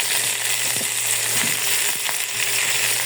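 Flat beans and potatoes fry in a pan with a steady, loud sizzle, broken by a few soft clicks and taps as they settle and are stirred.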